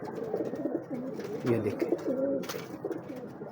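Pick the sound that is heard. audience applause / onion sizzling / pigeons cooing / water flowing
pigeons cooing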